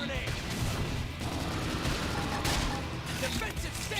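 Continuous dense gunfire and explosive bursts in the video game Xenoblade Chronicles X, loud and sustained, mixed with game sound effects.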